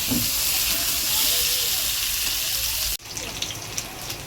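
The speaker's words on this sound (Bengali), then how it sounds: "আলুগুলো লাল লাল করে ভেজে নেব" Potato pieces frying in hot oil in a pan, a steady broadband sizzle and hiss that holds loud and even for about three seconds, then cuts and returns quieter and more broken, with a voice faintly present.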